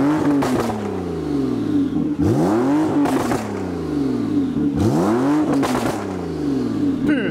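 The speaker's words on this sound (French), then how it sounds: "Elle fait trop de bruit la voiture." A turbocharged Ferrari engine revs hard in repeated bursts, each rising in pitch and falling back to a steady idle, loud and close with no talk over it.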